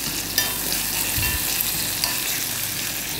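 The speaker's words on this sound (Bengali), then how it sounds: "এখন পেঁয়াজ কুচি দিয়ে দিচ্ছি।" Chopped onion frying in a pan for an omelette, a steady close hiss of sizzling oil with a few soft stirring knocks and no voices.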